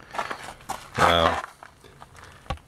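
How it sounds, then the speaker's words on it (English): Footsteps crunching and scuffing on gravelly dirt beside a 1932 Ford Firestone roadster, a few close uneven steps with a brief louder tonal burst partway through. "you hear my feet graveling in the dirt here."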